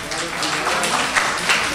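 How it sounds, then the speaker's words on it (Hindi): Applause at a mushaira felicitation in Pune, a crowd's clapping building into a broad wash of sound, with a voice partly talking over it. "ज़ोरदार तालियां होनी चाहिए।"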